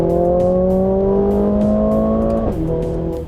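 Mercedes CLA 45 AMG engine pulling hard as the revs climb steadily, then a quick paddle upshift drops the pitch before it rises again; loud, close and continuous with no talk.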